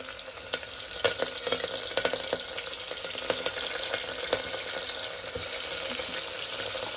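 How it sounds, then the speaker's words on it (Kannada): Mustard seeds, dried chilies, onion, curry leaves and garlic frying in hot oil in a pan, a steady dense sizzle with crackling pops and occasional stirring scrapes throughout. "ಬೆಳ್ಳುಳ್ಳಿ ಎಲ್ಲ ಹಾಕಿ ಚೆನ್ನಾಗಿ ಹುರ್ಕೋಬೇಕು"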